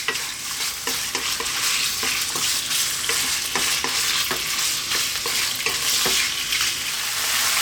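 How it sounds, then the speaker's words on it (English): Beef sizzling in hot oil in a pan, a steady bright frying hiss with repeated scraping stirs of a utensil, close and continuous with no talking. "we're going to fry it for a little bit"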